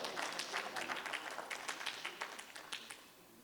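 Audience applause at a live poetry contest in Lucknow, a dense field of many hands clapping at a moderate distance, steady at first and then thinning and fading toward the end.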